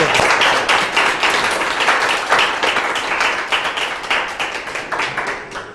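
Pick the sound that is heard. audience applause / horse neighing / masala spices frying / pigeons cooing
audience applause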